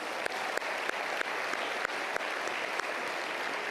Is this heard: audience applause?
yes